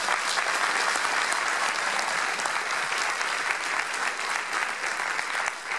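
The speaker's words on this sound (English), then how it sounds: "Let's give them another round of applause." A crowd at a swearing-in ceremony for a third elected term applauds steadily, a dense wash of many hands clapping at close range with no break, alone without talk.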